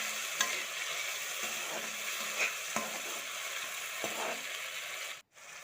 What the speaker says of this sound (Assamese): এয়া পিঁয়াজ ৰঙা হৈছে আৰু ইয়াতে এড কৰিছোঁ কাটি থোৱা বিলাহীখিনি আৰু ভালদৰে লৰাই ল'ম।